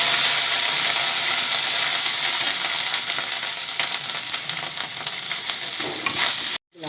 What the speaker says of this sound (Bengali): এবার জিরে তেলের পরে দিয়ে দিলাম ফোড়ন। একটু আদা দিয়ে দিলাম।